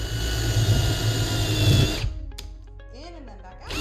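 A power drill drives into a pocket hole jig with a loud, steady whirring hum for about two seconds, then stops, leaving a quieter stretch of faint clicks and a voice speaking.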